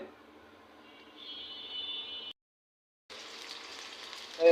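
Onions and chillies fry in hot oil in a wok, giving a steady crackling sizzle that briefly cuts out, then resumes louder and brighter.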